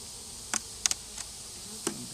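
Honey bees hum in a steady low buzz during a hive inspection seven weeks after a swarm capture, broken by a few sharp clicks and taps of a hive tool on wooden frames, all fairly quiet and close.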